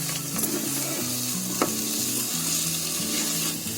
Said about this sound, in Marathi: आता हे आपले ड्रायफ्रूट टाकायचे त्याच्यामध्ये. बारीक गॅस करूनच ते जरा ढवळून घ्यायचे मिक्स करून.